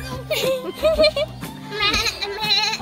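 A goat bleats in wavering cries, mixed with people talking and children's voices close by.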